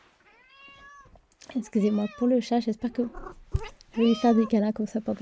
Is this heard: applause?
no